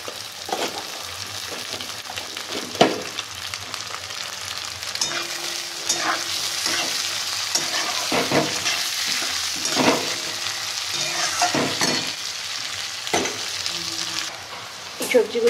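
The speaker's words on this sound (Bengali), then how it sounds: "সবজিগুলো অনেকটাই ভাজা হয়ে গেছে" Carrots and beans sizzle loudly in a pan for chowmein, a constant hissing fry broken by sharp, irregular scraping stirs and clatters, with almost no speech.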